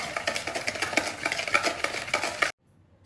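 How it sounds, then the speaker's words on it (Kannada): Sugar is mixed into cake batter in a bowl with quick, rhythmic scraping and stirring strokes, close and fairly loud, that stop abruptly near the end. No one speaks. "ಚೆನ್ನಾಗಿ ಏನೋ ಮಿಕ್ಸ್ ಮಾಡ್ಕೊಳ್ಳೋಣ"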